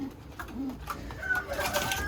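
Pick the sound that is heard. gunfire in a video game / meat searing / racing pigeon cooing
racing pigeon cooing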